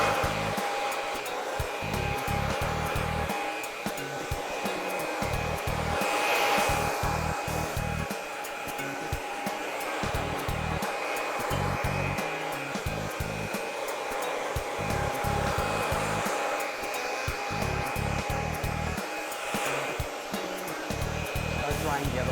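A blow dryer drying hair on a round brush gives a loud, steady whoosh that runs throughout. The airflow shifts slightly as the brush moves, and a voice talks faintly underneath.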